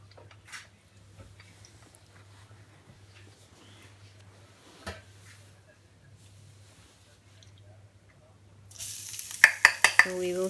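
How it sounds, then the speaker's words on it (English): Chopped garlic hits hot olive oil for a Korean-style sauce. After a long, quiet stretch with a low hum and faint knocks, a loud sizzle suddenly erupts near the end, with sharp clatters of the pan. "And saute it until the garlic will turn into golden brown."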